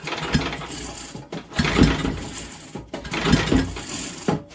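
A Briggs & Stratton small engine is turned over by hand with the pull cord, giving two or three rough mechanical whirring pulls with clicking and ratcheting, close and fairly loud, no voice.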